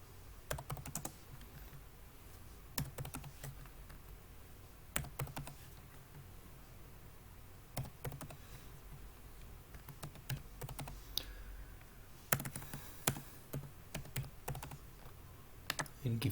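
Fast typing on a computer keyboard while entering data in Microsoft Excel, with close, steady key clicks in bursts over a low background hum.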